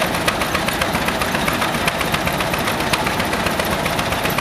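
Old tractor engine at a Red Power show, turning only about 570 RPM, produces a loud, continuous rough chugging with steady, evenly spaced knocks close by.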